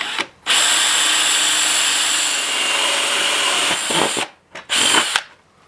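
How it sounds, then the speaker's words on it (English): A power drill whines loudly and continuously while drilling holes in a scooter, then cuts out and restarts in two shorter bursts, close up with no talking. "So now let's drill some holes."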